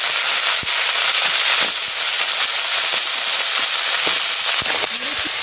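Crab frying in mustard oil in a kadai, a loud, dense, steady hiss of spattering oil with sharp crackles and pops scattered through it, very close and filling the whole clip.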